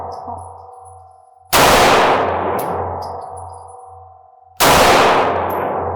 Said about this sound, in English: Shoot the gun until it's empty